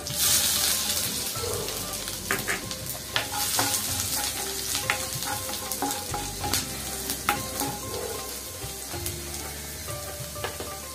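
Chopped ginger sizzles steadily in hot oil while being fried for masala bhindi, with a dense, continuous crackle and occasional scraping stir throughout.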